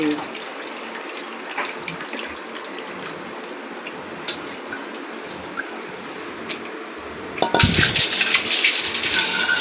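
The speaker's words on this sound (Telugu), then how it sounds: "ఇంకొకసారి పిసికి మళ్ళీ పిసికి పోస్తే బాగుంటుంది చింతపండు నీళ్ళు వేస్ట్ కాకుండా ఉంటుంది" Tamarind pulp squeezed by hand and the tamarind water poured off while preparing a village-style fish curry, a soft steady trickle ending in a brief louder gush of pouring liquid near the end.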